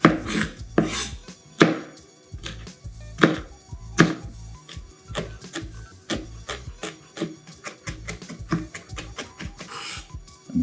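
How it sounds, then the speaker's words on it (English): Garlic cloves and pimentos are minced as finely as possible with a knife on a cutting board, making rapid close chopping taps in irregular bursts, loud and dry with no talking. "And I want to mince this as fine as possible."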